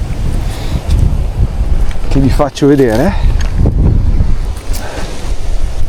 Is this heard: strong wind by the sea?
yes